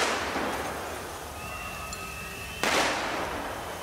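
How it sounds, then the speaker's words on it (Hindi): Firecrackers go off amid protesters clashing with police near a parliament, a burst of crackling pops followed by a sharp bang and fizzing crackle, fairly distant and moderately loud. "पटाखों से हमला करते भी दिखे"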